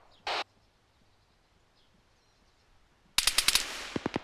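Gunfire in a military video game during a platoon training match: one short loud burst near the start, then after a long quiet stretch a rapid series of sharp, close shots that tails off into a few spaced pops.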